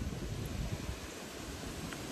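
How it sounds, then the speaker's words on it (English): Outdoor wind buffets the microphone on a windy day, making a continuous, broad rushing roar with gusty low-end bumps and no voices. "she's a windy one out there today."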